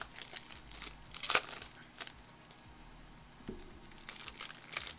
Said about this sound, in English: Let's rip some packs